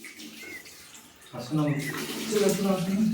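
Water splashes and runs steadily nearby while a person talks over it while washing the face, the sound growing louder partway through.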